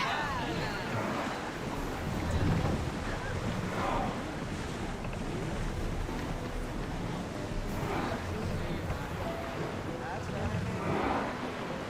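A sailing ship moves across the open sea in Assassin's Creed Odyssey, with steady wind rush and breaking waves washing against the hull, and a voice speaking over the broad, continuous ocean noise.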